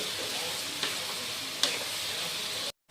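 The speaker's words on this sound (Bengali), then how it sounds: "আর আমাদের পেঁয়াজ কিন্তু ভাজা হয়ে গেছে" Onions frying with salt in a pan for chickpea ghugni make an even, moderately loud sizzle, broken by two sharp utensil clicks before it stops abruptly.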